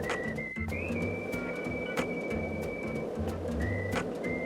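A long, steady whistle tone sounds in the video game Deadly Premonition 2, then returns briefly near the end over a low backing of game sound.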